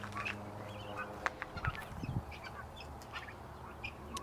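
Guinea fowl and turkeys calling inside their coop, a scatter of short honking and squawking cries spread across the moment, moderately near over a steady low background hum.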